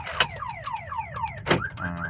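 Aftermarket remote alarm on a 2014 Toyota Yaris wails close by, with a rapid series of falling electronic sweeps broken by two sharp loud bursts, then a steady warbling tone at the end.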